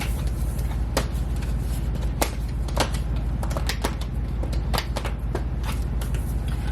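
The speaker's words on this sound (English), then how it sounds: "I'm going to go ahead and shuffle some more cards." Tarot cards are shuffled by hand close up. Quick papery riffles and crisp slaps come in irregular bursts over a soft, steady rustle, with no talking.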